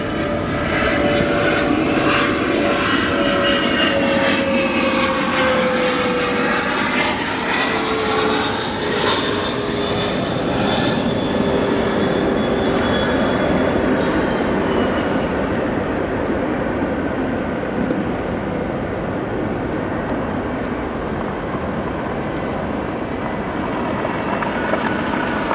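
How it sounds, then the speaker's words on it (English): A Gulfstream business jet takes off at O'Hare International Airport, its engine roar loud and steady throughout, with a slowly shifting whine as the aircraft climbs away. "Ooh, we got a Gulfstream taking off, folks."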